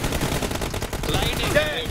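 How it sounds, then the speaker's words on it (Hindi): Automatic gunfire in a video game team deathmatch, with rapid, continuous bursts of shots crackling densely throughout at a steady, fairly loud level. "भाई गोली ही चल रही है"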